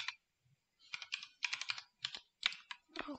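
Typing text on a computer keyboard while editing in DaVinci Resolve: a close burst of quick clicky keystrokes in uneven clusters, pausing briefly then resuming, with no voices.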